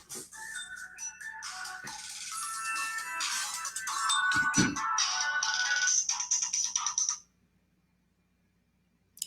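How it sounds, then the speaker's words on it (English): A phone ringtone plays a busy electronic melody loud and close for about seven seconds, then stops abruptly, leaving near silence. "I got a phone call coming in now."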